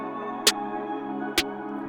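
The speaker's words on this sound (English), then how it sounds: "Kinda gonna use this as the clap and boost up the velocity" Snare sample used as a clap with boosted velocity in a mellow FL Studio 21 beat, two crisp hits about a second apart over a steady warm chord backing.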